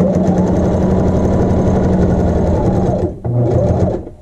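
A sewing machine stitches a double patch over a hole, running loud and steady for about three seconds, stopping briefly, then whirring on again close up, with no talk.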